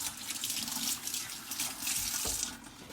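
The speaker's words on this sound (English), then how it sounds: "I'm going to go rinse my hands" A kitchen tap runs steadily as hands are rinsed under it, a continuous hissing splash of water close by with small shifts in the stream and no talking.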